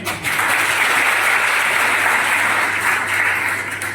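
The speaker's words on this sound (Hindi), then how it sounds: "एक बार मैम के लिए जोरदार तालियां।" Steady, loud applause fills a hall at a district-level youth festival run by Nehru Yuva Kendra in Datia, a dense wash of many hands clapping held for several seconds with no talk over it.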